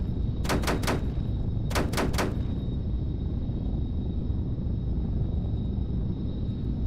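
An aircraft's gun fires during a co-op game run, in two short, sharp bursts of about three rounds each. A steady engine drone rumbles underneath.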